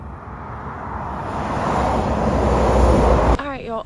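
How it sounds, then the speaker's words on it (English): Road traffic passes on a highway crossing near Camp Blanding in Florida, a broad rushing roar that builds as vehicles go by up close, then a person starts talking at the end. "We made it across one lane or two lanes of traffic."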